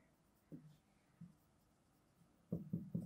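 Hand-writing Urdu antonyms produces a few brief, soft scratchy strokes: isolated ones early, then three quick strokes in a row near the end, with quiet room tone between and no talking.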